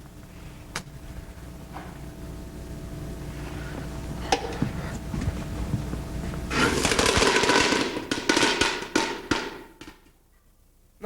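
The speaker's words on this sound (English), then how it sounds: "Penny, take a look at these new fireworks we made today" Homemade fireworks crackle as a stage effect in a high school play, starting with scattered pops and bangs, swelling into a dense loud burst of rapid crackling, then thinning to a few sharp cracks before falling quiet.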